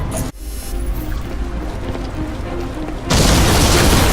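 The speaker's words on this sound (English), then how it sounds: "We have a secondary explosion at the church" A heavy explosion at a church in the Crysis 2 video game: a brief muffled boom, then sustained rumble, and near the end a sudden loud broadband roar of blast and debris.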